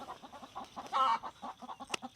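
Chickens cluck and squawk nearby as they are grabbed from a flock for wing clipping, a rapid run of short clucks with one louder, drawn-out squawk in the middle and a sharp flap-like burst near the end.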